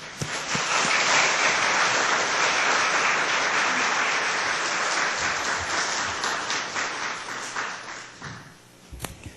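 A church congregation applauds warmly to welcome a pastor to the pulpit, a dense steady clapping that swells, holds for several seconds and then thins out to a few scattered claps at the end.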